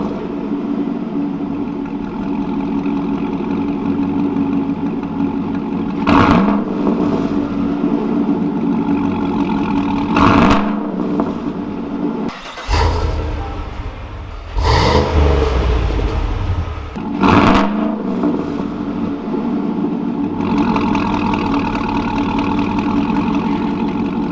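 A 2017 GMC Yukon Denali XL with a Corsa exhaust idles with a deep, steady rumble, broken by several loud revs that swell and fall back, close and with no talking.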